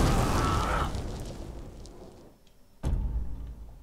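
An explosion in the stealth video game Thief bursts out at the start, loud and broad, then rumbles and fades into quiet before a second sharp thud hits near the end, with no one speaking.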